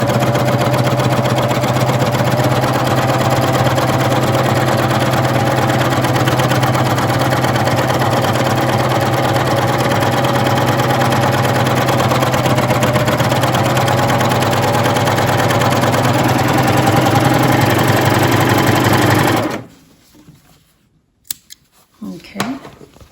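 A coverstitch machine runs steadily as it sews freehand curves across fabric, a continuous loud mechanical hum and rattle that stops abruptly near the end, followed by a few brief handling clicks.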